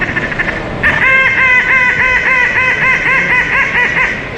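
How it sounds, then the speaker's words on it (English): Loud rhythmic quacking, a rapid run of nasal duck calls, starts sharply after a quiet lead-in and carries on close, with no talk, as ducks come in during wildfowling. "Here come the ducks, Alfie."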